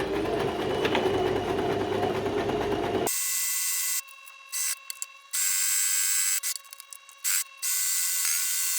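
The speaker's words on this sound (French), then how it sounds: "maintenant on va pouvoir passer une couture tout du long à 1 cm du bord" A sewing machine runs a straight seam along the edge of pinned fabric, with a steady fast mechanical whir that stops and restarts in several short bursts.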